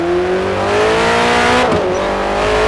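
Loud, steady engine roar of a Ford GT40 Mk II race car at full speed in a racing video game at Le Mans, the pitch sliding down as it brakes hard midway, then settling into a lower drone.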